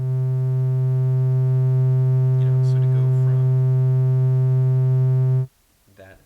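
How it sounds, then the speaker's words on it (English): An unfiltered triangle wave from a homemade synth filter circuit drones loud and steady at a low pitch, with a voice talking faintly over it before it stops abruptly and brief speech follows. "the actual sound that that's filtering is just a triangle wave, which sounds like this"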